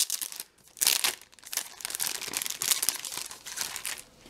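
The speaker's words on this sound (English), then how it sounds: "Let me unwrap, unbox." Plastic wrapping is crinkled and torn off a boxed product, with close, irregular bursts of crackling and rustling that rise and fall over a few seconds.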